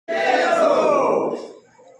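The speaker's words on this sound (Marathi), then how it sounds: "निवडणुकीनंतर एकच जल्लोष व्यक्त करण्यात आला" A crowd cheers and shouts together in celebration of an election win, a loud burst of massed voices that rises sharply, holds for about a second and then fades away.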